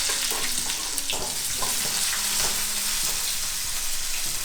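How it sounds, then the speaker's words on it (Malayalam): Mustard seeds, garlic, ginger and green chillies go into hot oil in a pan for a Kerala fish curry, sizzling loudly and steadily up close while scattered seed pops and stirring clicks cut through. "അതിനുശേഷം കുറച്ച് കടുക് അതിലേക്ക് ഇടുക. അതിലേക്ക് നമുക്ക് കുറച്ച് വെളുത്തുള്ളി ഇടാം."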